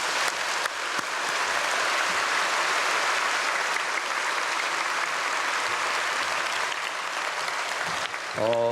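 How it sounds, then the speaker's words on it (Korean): A church congregation applauds at an early-morning service, a dense, even wash of clapping sustained for most of eight seconds before it tapers off and a voice begins. "박수로 한번 축복하겠습니다"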